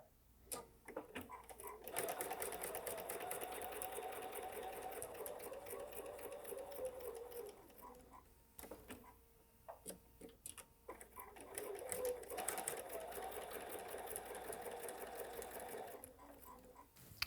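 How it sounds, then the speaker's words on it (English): A sewing machine stitches a peppermint quilt block corner to corner in two long runs with a brief pause between, giving a steady whirring hum over rapid needle ticking, close and fairly quiet. "Now I'm just going to sew this from corner to corner and press it"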